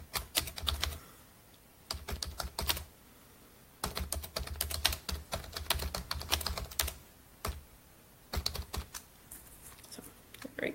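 Rapid typing on a computer keyboard, close and fairly loud, arriving in several bursts of quick key clicks separated by short pauses, with no talking.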